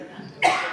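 A single sharp cough bursts out after a quiet stretch, close and fairly loud, then trails off into breathy residue; it follows a sip of a spicy, bitter drink.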